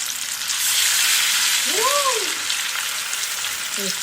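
Jaggery syrup hisses and sizzles steadily in a hot pan while a cake batter is made, a loud continuous frying crackle with a brief voice-like murmur in the middle.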